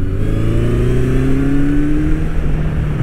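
Air-cooled four-cylinder Honda CB1100 1100cc motorcycle engine pulling hard from low revs as the throttle snaps open, a loud, steady, deep drone with a rising pitch, close up and alone without talk.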